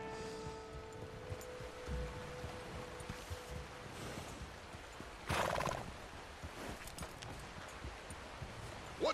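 Horse hooves clip-clopping with a whinny from a horse ridden in Red Dead Redemption 2, steady hoofbeats under game music with a louder burst midway.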